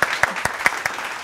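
Audience applause on a Malayalam TV show set, a brief burst of dense clapping with a few sharper claps standing out, loud and close.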